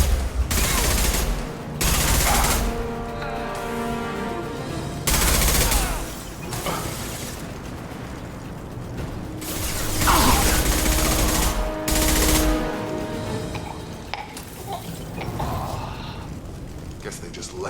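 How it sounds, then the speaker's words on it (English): Heavy gunfire in the Mass Effect 2 video game: repeated loud automatic bursts of shooting, broken by short gaps, with mechanical clatter and game sounds between volleys. "Taking heavy fire!"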